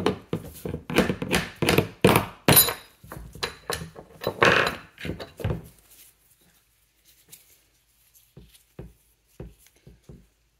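A rapid run of hard tapping knocks from a small plastic hammer on parts of a 1918 Carcano rifle, close and loud for several seconds, then quiet with a few lighter, scattered taps.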